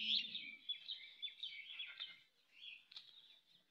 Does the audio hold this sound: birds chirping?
yes